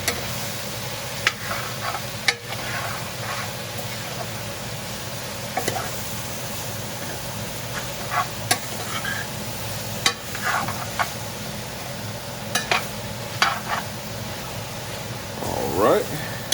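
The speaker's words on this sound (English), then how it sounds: "We're going to give it all a good mix." Red beans and sausage stirred in a frying pot, a steady sizzle with scattered scrapes and knocks of the spoon, a background hum throughout, and a voice speaking over parts of it.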